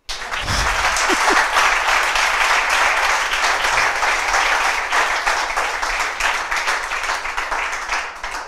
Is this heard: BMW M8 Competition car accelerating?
no